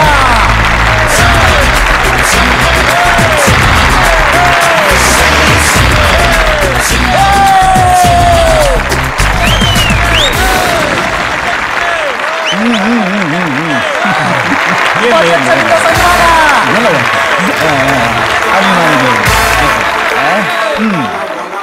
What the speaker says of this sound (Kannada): ನಿಮ್ಮ ಚಪ್ಪಾಳೆಯೊಂದಿಗೆ ಚಿಂತೆಯಿಲ್ಲದೆ ಸಂಘದ ಅಧ್ಯಕ್ಷರಾದ ಚಂದ್ರಶೇಖರ್ ಗೌಡ ಬರಮಾಡಿಕೊಳ್ಳೋಣ